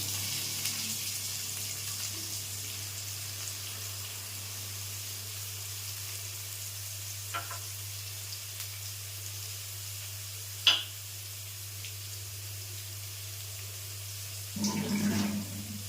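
Onion, cumin and garlic fry in a pan for a soybean ghugni, a steady low sizzle and hiss up close, with a few faint utensil knocks and a brief louder stir near the end.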